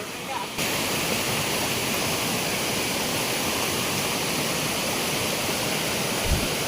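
A Konkan creek flows in a steady, loud, close rush of water that holds unbroken throughout, with faint voices beneath it.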